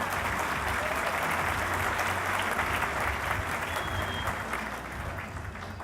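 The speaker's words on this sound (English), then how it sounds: "Let's give a round of applause for doing this." An audience at a fire department awards ceremony gives the council a sustained round of applause, a dense wash of clapping that tapers off slightly toward the end, with some murmuring voices underneath.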